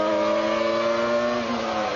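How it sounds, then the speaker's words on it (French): A Formula 1 car engine from an onboard camera at the 1998 Austrian Grand Prix, Jacques Villeneuve's car, gives a loud, continuous high-pitched whine that holds steady and then shifts slightly in pitch, with no voices over it. "Caméra embarquée avec Jacques Villeneuve"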